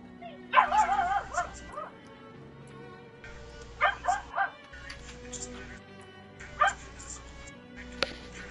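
A dog barks and yips in short bursts: a whimpering, wavering cry, then several sharp barks spaced a few seconds apart, close and fairly loud over a faint steady background hum.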